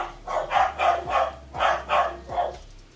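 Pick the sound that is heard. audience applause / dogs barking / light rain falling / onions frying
dogs barking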